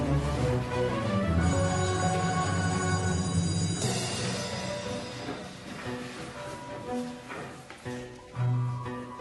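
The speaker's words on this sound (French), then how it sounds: "soudain retentit la sonnerie annonçant la récréation" School bell at Saint-Joseph school in Bastogne ringing to announce recess, a loud, sustained electronic chime with steady tones filling the space continuously, no voices heard.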